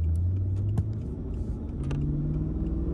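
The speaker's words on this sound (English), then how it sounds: "put it in first gear, and start our car up" A manual-transmission car's engine rumbles low and close as it pulls away in first gear without using the clutch, with a few light clicks and rattles and no talk.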